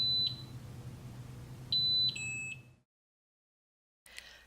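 Short high-pitched electronic alarm beeps from an MG 6000 metal detector over a low hum as a test piece passes its sensing area: one beep, then a pair with a longer tone, before the noise cuts out and a faint clatter follows.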